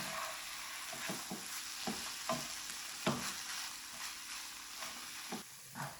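Carrots and potatoes frying in a pan, a quiet continuous sizzle with a series of spoon scrapes and soft knocks as the pieces are stirred, close up and without speech.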